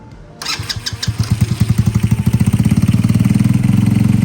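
A motorcycle engine on a Boom Vader with a Nibbi PE 24mm carburetor cranks a few times on a cold start, then catches and settles into a loud, rapid, steady idle that pulses evenly, close up.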